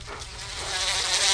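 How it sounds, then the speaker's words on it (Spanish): A swarm of insects released in an animated Simpsons episode: a dense, continuous buzzing drone, close and growing louder over the short stretch, with no talking. "Como no estaban, tuve que soltar a los insectos."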